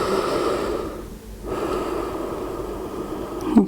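Slow, deep breaths drawn and released during a yoga pigeon pose, a long steady airy exhale, a brief pause, then another sustained breath close to the mic, ending in a short sharp intake.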